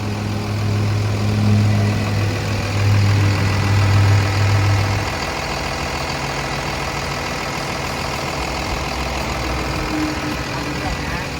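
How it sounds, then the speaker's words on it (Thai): A Komatsu WA320-7 wheel loader's six-cylinder turbo diesel, a Komatsu 6D107, idles with a steady, loud low rumble close by, its pitch shifting slightly early on. "เครื่องยนต์นะฮะแน่นอนเป็น6สูบเทอร์โบนะครับ"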